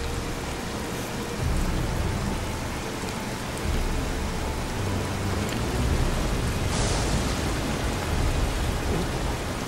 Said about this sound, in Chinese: 落大雨打赤辣咁样